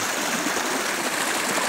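Mountain stream water flows along a trail in Okhaldhunga, Nepal, as a steady, full rushing wash with no pauses and no voices.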